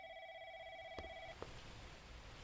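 A telephone rings in a horror video game, a faint steady electronic tone that holds for over a second and then cuts off, followed by quiet background hiss.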